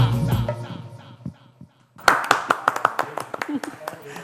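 Applause breaks out after a song on a Sindhi TV entertainment show: a short lull, then a sudden burst of close hand clapping with sharp, uneven claps, with voices talking underneath.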